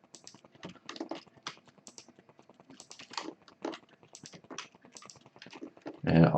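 Rapid, light clicking from a computer mouse and keyboard in a game editor's fly mode, a dense run of small taps with a brief louder burst at the end.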